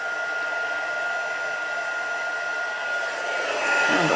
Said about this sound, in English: Heat up my heat gun.